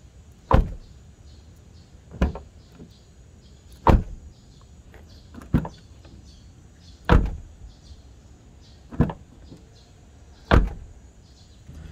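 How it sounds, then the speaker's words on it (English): A Toyota Raize car door thumps shut seven times in a row at steady intervals, each solid closing clunk standing out clearly against near silence. "what the doors sound like when you open them and close them"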